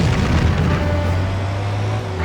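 A deep, rumbling explosion from the Stuntman driving stunt game on PS2, a loud sustained boom with vehicle engine rumble beneath, close and filling the whole moment without any talk.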